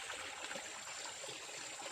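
Spring-fed stream water flows in a rural farm setting, a soft, steady rushing babble that continues evenly throughout, with no speech over it.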